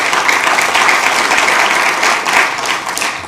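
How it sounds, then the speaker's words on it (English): An audience at a Sacramento city council meeting claps in a dense, steady round of applause that stays loud and even from start to finish. "And so I want to thank Greg King, give him a round of applause as well."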